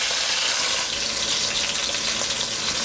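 Chuck roast sizzles in a hot pan as it is flipped, a steady close hiss of frying fat and juices that holds without a break, with no talk over it.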